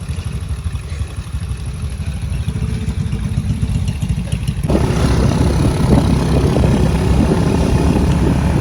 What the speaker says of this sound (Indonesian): kita naik motor ke pos 1.